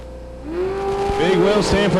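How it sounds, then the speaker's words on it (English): At the 2012 Yellow Bullet Nationals, a drag race car launches hard into a wheel stand, its engine climbing sharply into a loud, roaring surge as an announcer talks over it. "Big wheel stand for Dan Wiley"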